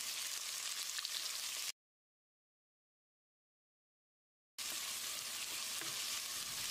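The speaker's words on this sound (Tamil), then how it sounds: "வெங்காயத்தை கண்ணாடி பதத்துக்கு வதக்கிடலாம்." Two large onions sliced lengthwise sizzle steadily in a hot pan, a dense, even frying hiss that cuts out completely for a few seconds and then resumes at the same level.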